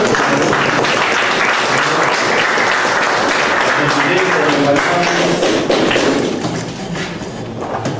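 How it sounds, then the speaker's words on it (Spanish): An audience gives a strong round of applause to welcome guests at a talk on autoimmune diseases, a dense sustained roar of clapping that stays loud before tapering slightly near the end. "Yo quisiera que los recibamos con un fuerte voto de aplauso"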